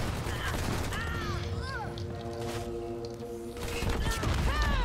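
Gunfire in the video game Dirty Bomb, with broadband bursts of shots under a continuous, busy layer of game sound and a player talking throughout.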